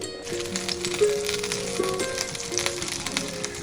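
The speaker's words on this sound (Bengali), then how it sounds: "আস্তে আস্তে সুন্দর করে পেটিটাকে ভেজে নিব" A pre-boiled beef burger patty fries gently in oil in a pan, giving a steady soft sizzle with small crackles and pops throughout, close up and with no talking.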